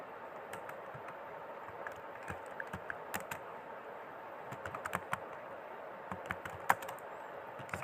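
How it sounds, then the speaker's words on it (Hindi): Keys clacking on a computer keyboard as a heading is typed into an Excel salary sheet, a steady run of quiet, irregular clicks with occasional sharper taps, faint and close with no talking. "यहाँ पर हमें टाइप करना है employ salary sheet of August."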